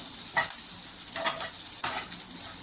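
Coriander leaves being stirred into podi idli in a pan, a low continuous sizzle broken by three distinct scraping strokes of a spoon, close and fairly quiet.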